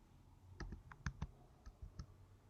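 Sparse keystrokes on a computer keyboard, about eight distinct clicks at uneven intervals, close and fairly quiet with no talking.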